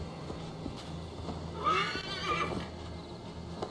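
A horse in the video game Assassin's Creed: Valhalla gives a clear, loud whinny in the middle, with a low steady hum and faint clatter in the background.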